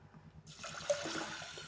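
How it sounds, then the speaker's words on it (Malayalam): Water pours into a pressure cooker set on a stove for cooking rice, a steady rushing splash starting abruptly and continuing fairly close, with no talking. "വെള്ളം ഒഴിക്കണം."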